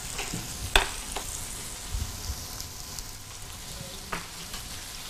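Tomato added to a hot pan for sweet potato gnocchi sizzles and fries steadily, with a few sharp clinks and stirring scrapes over the crackle, close and moderate in volume.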